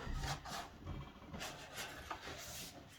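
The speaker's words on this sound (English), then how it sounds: "Try to use even pressure as you're scraping off the wax" Plastic scraper dragged across a waxed snowboard base, giving repeated rough rasping strokes that continue steadily at close range and moderate level through the clip.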